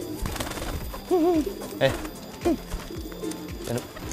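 Kolong pigeons coo softly in short warbling bursts while a person talks nearby.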